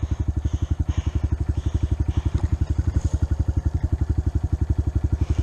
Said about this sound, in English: I was gonna cut my bike off, but I can't, because if I cut my bike off, I gotta kickstart it